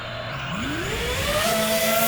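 iFlight Nazgul F5 Evoque FPV drone motors, run on a 4S battery, whine up from a low hum to a rising, steady high-pitched buzz at liftoff, loud and close with no talk.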